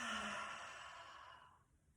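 A single slow yoga exhale through the nose during a flow from downward facing dog, close and soft, a breathy rush that starts full and fades to quiet within two seconds.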